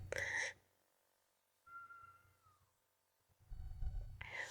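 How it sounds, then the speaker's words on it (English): Cat meowing indoors, one soft drawn-out meow in a quiet gap between bursts of game audio and a voice, fairly faint and brief. "If you hear a cat, sorry."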